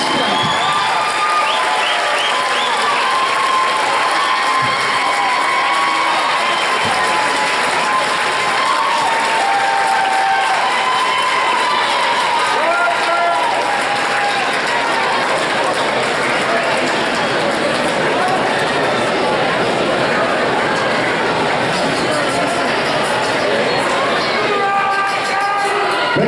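Crowd at a youth lacrosse championship recognition ceremony cheers and applauds steadily for the full length, a dense continuous roar of clapping with whoops and scattered voices throughout.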